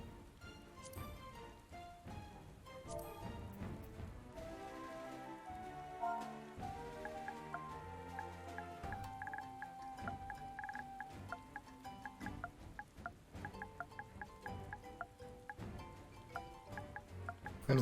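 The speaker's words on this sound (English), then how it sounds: "And it's raining again." Steady patter of rain in the video game Final Fantasy XIV: Heavensward runs throughout, layered under a busy tonal musical backdrop with scattered ticks and chimes.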